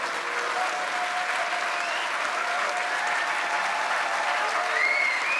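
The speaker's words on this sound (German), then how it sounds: "Stehenden Applaus, das kann ich verstehen." Sustained, dense standing-ovation applause from a large crowd at a BSW party congress after a speech by Sahra Wagenknecht, steady and loud throughout with no talking, swelling slightly toward the end.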